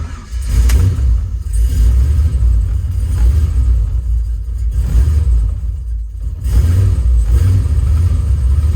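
A 2022 Peterbilt 389 truck engine, running after sitting about two weeks with its tune not fully right, rumbles loud and close with a deep, steady low drone and slight surges.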